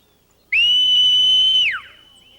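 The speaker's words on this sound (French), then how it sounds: "Un sifflement?" A single loud, steady whistle holds one high pitch for about a second, then slides downward and fades, with no voices.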